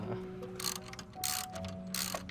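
A ratchet wrench loosens the bolt on a Hyundai Elantra crank pulley, with three bursts of rapid, bright clicking separated by short pauses, close and loud over a faint mechanical hum.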